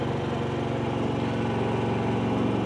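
A generator engine drones steadily, a constant loud mechanical hum with a throbbing vibration, no pauses.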